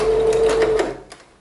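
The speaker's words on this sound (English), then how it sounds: "I'm gonna do the 1/8 of an inch stitch closest to the inside of my fabric" A sewing machine runs steadily, stitching a narrow eighth-inch hem on light special-occasion fabric with a thin needle, a close continuous whir that stops abruptly near the end, leaving quiet room tone.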